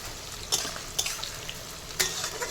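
Chopped onions frying in a pan in a home kitchen: a constant close sizzle, broken by three or four sharp scrapes or clacks of stirring spaced about half a second to a second apart.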